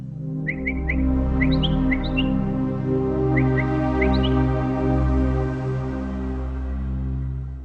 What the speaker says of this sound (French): Le langage d'appel des oiseaux et leur chant.